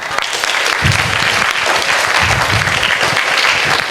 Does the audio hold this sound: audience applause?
yes